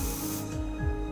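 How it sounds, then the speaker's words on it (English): A short burst of pepper spray hissing onto a plant in the Blood Nova video game, a breathy spray that cuts off after about half a second, leaving a low hum. "I can pepper spray a plant."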